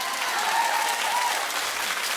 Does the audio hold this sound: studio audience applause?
yes